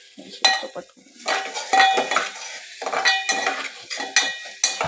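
A spoon stirring Maggi noodles with turmeric in a hot pan, close clattering scrapes against the metal in irregular bursts, with light sizzling underneath and no talk.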